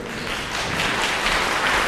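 An audience at an evening event opening an art exhibition applauds to welcome the guest of honour, a steady, loud, close wash of clapping that builds slightly toward the end, with no voices over it.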